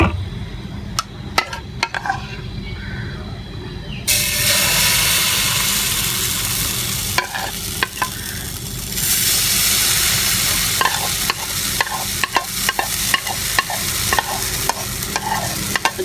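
An egg paratha fries in a pan with a steady close sizzle, broken by scraping and stirring clicks as it is turned to sear the edges, continuous and fairly loud with no talking.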